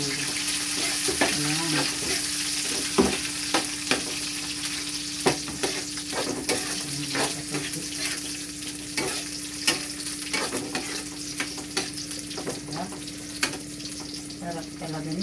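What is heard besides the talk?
frying garlic and onion in a pan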